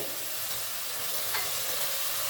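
Spices fry and get stirred in a pan for Memoni beef daal gosht, a steady loud sizzle with a faint scrape partway through.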